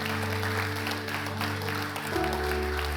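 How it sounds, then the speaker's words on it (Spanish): A church congregation applauds, steady moderate clapping from many people, with a sustained organ or keyboard tone underneath that shifts pitch near the end. "Vamos, denle un aplauso a Dios por estas personas."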